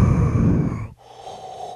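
A person imitates the heavy mechanical mask breathing of Bane, like Darth Vader: a loud, close, rasping exhale that breaks off midway, followed by a quieter wheezing draw of breath.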